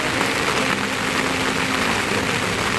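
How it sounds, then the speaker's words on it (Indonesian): Rain falls at night on a hillside campsite near Bogor, a steady, close hiss of drops on surfaces that runs unbroken throughout. "Akhirnya malam ini hujan juga"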